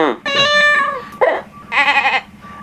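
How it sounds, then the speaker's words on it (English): Recorded animal sounds from a sound app: bright, wavering goat- or sheep-like bleats in several short bursts with brief gaps between them, loud and close. "You have these animal sounds."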